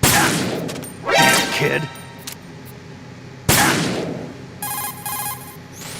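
Gunfire in Metal Gear Solid 2 on PS5: loud sharp bursts of shots with ringing metallic clangs, two main volleys separated by quieter stretches, and a brief spoken line in between.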